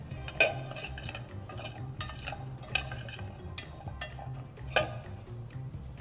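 Lardons sweat in a pan while a utensil stirs them, making irregular metallic scrapes and taps against the pan over a soft background hiss, close and fairly quiet, with no talking.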